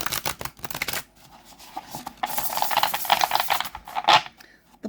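A Haptic Tarot card deck with black core stock is shuffled, giving a rapid, close riffle of flicking cards in two bursts. A short quieter pause separates them, and no one talks.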